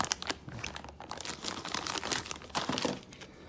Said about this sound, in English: I'm going to have to cut this open.